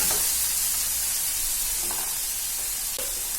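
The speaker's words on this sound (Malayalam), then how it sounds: "ഇനി നമുക്ക് അതിലേക്ക് കറിവേപ്പില ഇട്ട് കൊടുക്കാം." Curry leaves and spice powders sizzle in a frying pan for Kerala-style fish biryani, a steady, close, bright hiss with a few faint pops and no talking.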